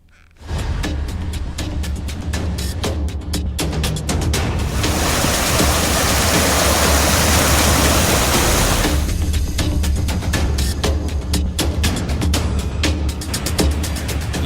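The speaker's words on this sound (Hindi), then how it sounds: "नदियों का शोर डरा रहा है।" Flooded Betwa and Yamuna rivers in Uttar Pradesh's Bundelkhand region swollen after record heavy rain, a steady, loud, broadband roar of rushing water that rises to a heavier surge midway and continues unbroken, with no voices.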